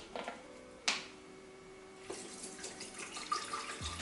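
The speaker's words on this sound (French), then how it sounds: "Un petit coup d'eau." A kitchen tap runs water into a pot or sink with a steady hiss and splash, preceded by a clunk of the handle and ending with a hollow knock.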